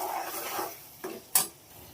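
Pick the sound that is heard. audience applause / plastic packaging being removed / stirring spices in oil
stirring spices in oil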